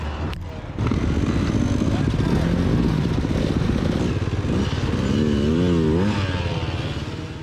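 A dirt bike engine buzzes and revs continuously during a hard enduro ride across ranch terrain, loud and close with rising and falling pitch, and a voice talks over it.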